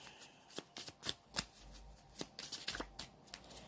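Tarot cards being shuffled by hand, a quiet close-up series of soft riffling flicks and slaps in an irregular rhythm.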